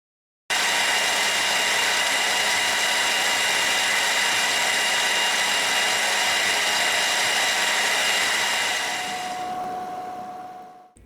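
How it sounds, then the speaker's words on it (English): A milling machine cuts a Weiand 671 blower intake manifold with a steady, loud, high-pitched whirring grind that holds even for about nine seconds before winding down. "Now I can mill down to the line."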